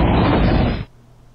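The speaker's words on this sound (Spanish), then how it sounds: "Buah, eso es una volcarona" Volcarona's cry from a Pokémon video game, a single loud, harsh burst that holds for under a second and then cuts off abruptly into quiet.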